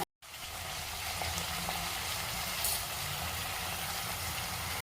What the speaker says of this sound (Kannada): ಆಲೂಗಡ್ಡೆ ಮತ್ತು ಹೀರೆಕಾಯಿನ ಆ್ಯಡ್ ಮಾಡ್ತಿದ್ದೀನಿ ಸ್ವಲ್ಪ ಉಪ್ಪು ಮತ್ತು ಅರಶಿನ ಹಾಕ್ಬಿಟ್ಟು ಚೆನ್ನಾಗಿ ರೋಸ್ಟ್ ಮಾಡಬೇಕು